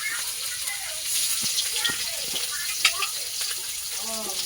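Paste of onion, garlic and ginger frying in hot oil for a catla fish curry, a steady broadband sizzle that runs throughout with small crackles and a faint clink or two.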